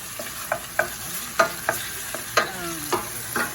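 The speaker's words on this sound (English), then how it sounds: "So let's fry up these onions." Onions frying in a pan on the stove, being stirred at intervals, with a steady low sizzle under a series of sharp clinks and scrapes of the utensil against the pan.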